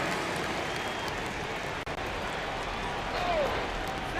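Arena crowd in the NBA 2K26 basketball game, with a steady, loud roar of cheering and applause from a big crowd that holds for several seconds and drops out only for a moment.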